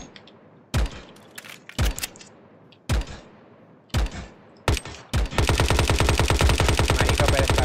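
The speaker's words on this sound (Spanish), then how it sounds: "Me está disparando y ni siquiera me ve." Gunfire in the game Unturned: several loud, sharp single shots ring out at uneven intervals, then break into a sustained rapid burst of automatic fire. Nobody talks.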